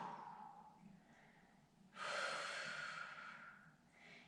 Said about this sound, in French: Sur 3 grandes respirations